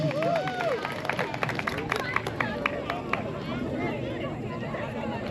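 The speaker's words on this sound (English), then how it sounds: "let's give them a big round of applause for their outstanding contribution" Applause from an audience at a cricket tournament ceremony, steady broad clapping mixed with crowd murmur and voices talking throughout.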